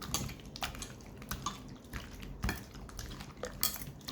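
Chicken being mixed with lemon juice and spices in a bowl, quiet wet squelching with irregular clinks and scrapes of a utensil against the dish, close and fairly soft, no talking.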